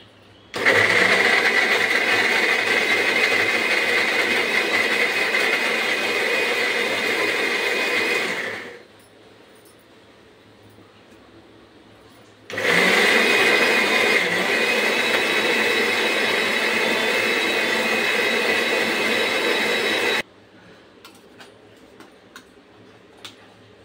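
A mixer grinder grinding lemons for pickle, running loud and steady in two long whirring bursts of about eight seconds each, with a short quiet gap between them and near silence after.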